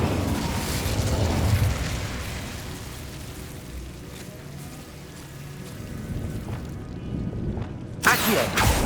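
Spells cast in Hogwarts Legacy, an Incendio fire spell among them, come through as a continuous rumbling, crackling game soundscape with muffled bursts and a sharp flare near the end.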